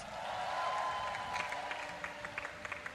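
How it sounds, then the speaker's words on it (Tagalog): Applause from a congregation at an El Shaddai church service, a faint, steady patter of many hands clapping with scattered sharper claps. "pumalakpak kayo ng malakas"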